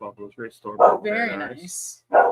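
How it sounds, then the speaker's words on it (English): Dogs outdoors bark a few times close by, mixed in with a person speaking. "sorry for the barking if you hear it"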